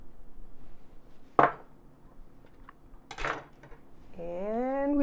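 A spoon clinks and scrapes twice against a bowl while tuna salad with avocado-oil mayo and pepper is mixed, followed by a short rising vocal sound near the end.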